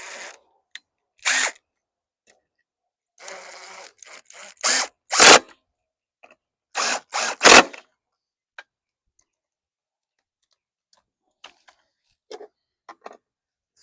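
A Craftsman 3/16 screwdriver clicks and rubs as it tightens screws on a 2014 Yard Machines walk-behind lawn mower, with short separate scraping bursts and sharp ticks spread between quiet gaps.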